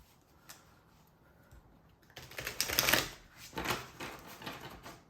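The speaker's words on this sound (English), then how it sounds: "One more riffle shuffle." Tarot cards are riffle shuffled after a quiet opening, giving a dense burst of crisp, rapid fluttering clicks, then a second shorter flurry, close and fairly loud with no talking.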